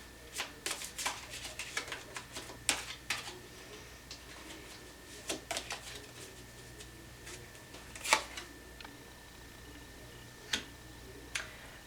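Tarot cards are shuffled and drawn in a quiet room: a scattered run of sharp, papery flicks and taps arrives in small clusters with brief pauses, close and fairly faint.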